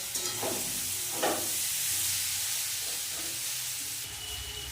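Potato, onion, garlic, tomato and Gobindobhog rice frying together with spices for a fish-head muri ghonto, giving a steady close sizzle with a few louder stirring scrapes in the pan.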